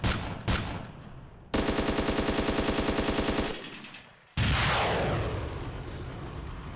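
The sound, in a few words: vehicle gunner's weapons firing in video game ArmA 2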